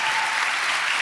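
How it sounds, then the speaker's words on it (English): An audience applauds, a dense, steady burst of clapping heard from within the hall with no pauses. "stop applauding"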